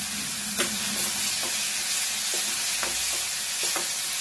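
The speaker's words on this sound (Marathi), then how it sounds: "त्यामुळे चांगलं लालसर होईपर्यंत आता हे चांगलं भाजायचं" Onion, potato and garlic paste frying in a pan with a continuous loud sizzle and hiss, while a spoon stirs it and scrapes the pan in several sharp, irregular strokes up close.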